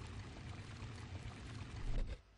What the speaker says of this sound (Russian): Давайте выльем это.